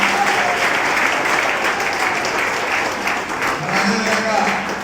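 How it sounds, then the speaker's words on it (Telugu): Dense, loud audience clapping at a public meeting, a sustained applause wash that holds steady throughout, with a voice speaking faintly beneath it. "మరి ఒక్కసారి గట్టిగా చప్పట్లతో రామారావు గారిని"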